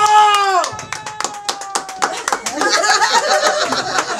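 Guests at a birthday serenade clap in a loose, uneven burst of individual sharp claps, with a sung or held voice tone trailing off at the start and some chatter and chuckles mixed in.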